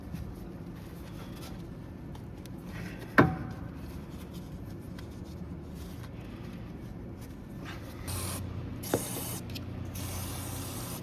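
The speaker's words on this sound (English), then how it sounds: "we'll try to spray it with some silicone spray" A short hiss of silicone spray onto a rubber control arm bushing of a Honda Ridgeline around three seconds in, with a second brief spurt later, over a low steady background hum.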